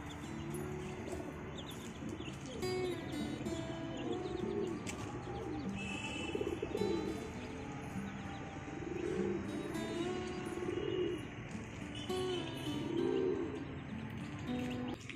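Pigeons coo steadily inside a loft where pairs are breeding, with low rolling calls repeating in overlapping waves alongside a few faint chirps and light rustling.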